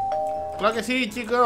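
A doorbell rings in the Minecraft video game, a steady chime tone held for about half a second before voices talk over the rest.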